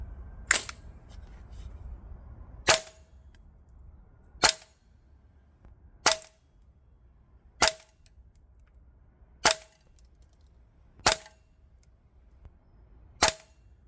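A 2024 Guns Modify HK416A5 MWS gas blowback airsoft rifle fires 0.25 g BBs on green gas, eight sharp, loud single shots spaced about every one and a half to two seconds, each a crisp metallic crack with no talk.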